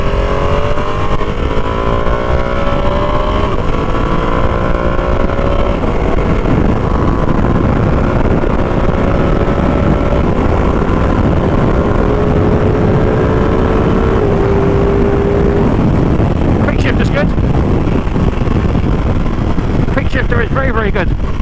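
A 2020 Ducati Panigale V2 accelerates on the road, its engine note climbing through gears in rising sweeps under heavy wind roar, loud and continuous from the rider's position.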